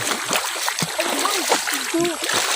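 Several people wade through shallow water on a countryside path, their steps sending up irregular close splashes while voices chatter and call out over them.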